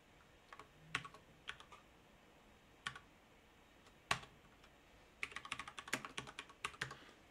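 Code is typed on a computer keyboard, first as scattered single key clicks, then as a quicker, denser burst of keystrokes, close up against a quiet room hiss.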